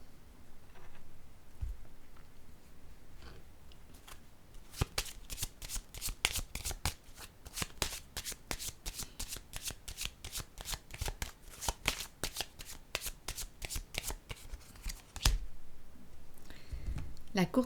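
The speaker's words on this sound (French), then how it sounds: "Je vais piger une carte ici." Playing cards are shuffled in a rapid run of crisp riffling clicks lasting several seconds, with quieter handling before and after.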